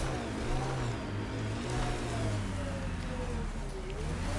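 A car engine drones in the Mass Effect Andromeda video game, a low steady hum with gently rising and falling pitch as the vehicle drives along, fairly quiet and continuous.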